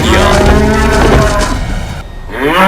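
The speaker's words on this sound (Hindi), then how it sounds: "जैसे ही उसने वीर की तरफ देखा तो चिंगारते हुए वीर पर अटैक कर दिया।" A loud, close bellowing moo with a harsh snorting edge, used as the roar of an alien creature that is part bull and part horse in an audio drama, dropping briefly before a final rising snort.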